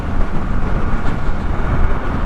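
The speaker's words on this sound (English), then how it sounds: "There's loads of power there, so the engine's just ticking along really quite nicely." Steady, loud drone of a Suzuki car engine cruising at motorway speed in sixth gear, mixed with road and wind rumble and no clear variation.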